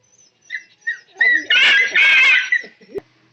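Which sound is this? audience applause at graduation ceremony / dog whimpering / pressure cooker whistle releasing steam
dog whimpering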